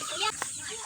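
A chicken clucks in a short, close burst, followed by a quieter trailing cluck, while feeding.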